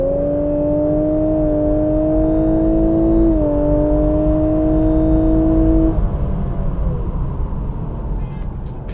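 Lexus LC500h hybrid GT accelerating hard, a loud close engine note rising steadily in pitch with a whirring hybrid drive, then easing off into road and tyre rumble.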